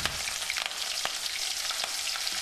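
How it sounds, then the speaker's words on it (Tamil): Chopped onions sauté in hot oil with curry leaves and chillies for a village-style fish curry, a close, steady sizzle broken by sharp crackles and spatula scrapes. "இதை கொஞ்சம் நல்லா வதக்கிக்கிறோம்"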